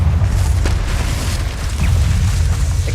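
A Confringo fire-spell blast in Hogwarts Legacy: a dense, sustained rumbling boom with heavy low-end roar and crackling debris, loud and continuous for a few seconds without speech.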